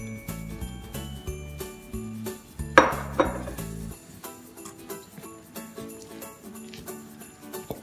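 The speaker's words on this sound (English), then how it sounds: "we add this into the mixture and we stir gently until it's just combined" Muffin batter with baking soda being stirred gently in a bowl, giving soft scraping and clinking of a utensil against the dish, with one louder clatter partway through, all under a steady background tone.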